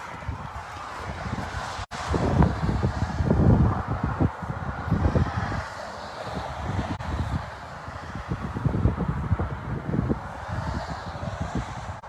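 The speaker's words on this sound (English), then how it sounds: "it's kind of windy, and hopefully sound's probably not going to be that great" Gusty outdoor wind buffets the microphone with a continuous low rumble that swells and dips in uneven surges, loud and close, with no talking.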